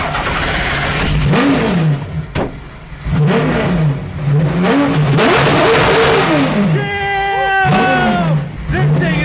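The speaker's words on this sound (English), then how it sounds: "Might as well just do a little bit of a burnout to get going." A VW Passat drift car does a burnout, its engine revving up and down in repeated loud surges and bouncing off the limiter, with shouting passengers inside the car over the noise.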